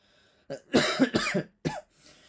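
A burst of several harsh, close coughs in quick succession from a person who is unwell, followed by a shorter cough and a faint breath.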